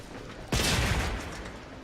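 A single sharp blast from the Aklex explosive pistol in the Warframe video game, loud and sudden, its burst of noise fading slowly over about a second.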